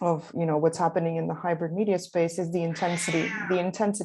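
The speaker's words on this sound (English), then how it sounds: "that's my cat" A pet cat meows briefly behind a person talking steadily, and its short call sits under the voice.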